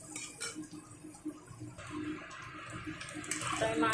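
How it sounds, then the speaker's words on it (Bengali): Fish fat and roe frying in hot oil, a steady crackling sizzle with brief pops, fairly loud and close, with no talking. "তো আমি মাছের তেলটাকে খুব সুন্দর করে ভেজে নেব।"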